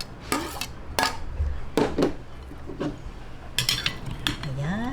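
A spoon stirs a Filipino grilled pork belly and cucumber salad with onion in a small bowl, making a few close clinks and scrapes against the dish at an irregular pace, with a faint voice present at times.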